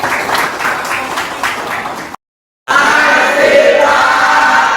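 A crowd claps and cheers loudly, broken by a brief silent gap, then a dense wave of applause with shouts resumes.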